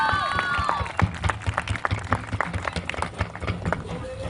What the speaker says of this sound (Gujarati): એમના માટે પણ જોરદાર તાળીઓ.